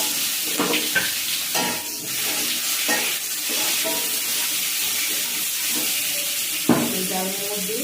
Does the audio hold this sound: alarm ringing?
no